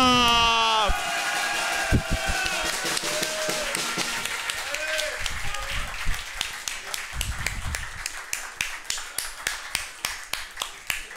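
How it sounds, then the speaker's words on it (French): Audience applauding for chess player Maxime Vachier-Lagrave at a live chess battle event, the clapping thinning into scattered individual claps toward the end, with a voice speaking over the start. "Je vous demande un tonnerre d'applaudissements pour Maxime"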